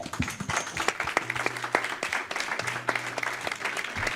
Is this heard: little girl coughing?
no